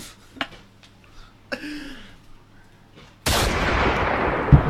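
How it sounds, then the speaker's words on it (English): A gunshot sound effect: a sudden loud broadband blast after a few seconds of quiet, with brief faint clicks and a voice fragment before it, the noise sustaining to the end. "Gunshot."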